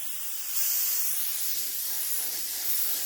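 A spray gun spraying paint onto a car wing at home, a steady, close hiss that swells slightly as the spray starts and then holds evenly.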